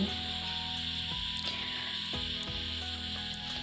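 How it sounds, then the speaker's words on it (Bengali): Cut potatoes sizzle in hot oil in a pan while a fish-head muri ghonto is being cooked, a steady close hiss with a few soft knocks and clicks from stirring. "এই তেলের মধ্যে আমি কেটে রাখা আলু অ্যাড করে দিলাম এই আলুগুলোকে ভেজে নেব"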